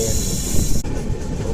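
The Arunachal AC SF Express, a fully air-conditioned train, passes through a station without stopping at Barauni. A loud, continuous, close rumble of rolling stock rushes past with a sharp break partway through.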